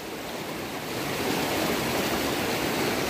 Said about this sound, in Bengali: নিচে পুরো জল যাচ্ছে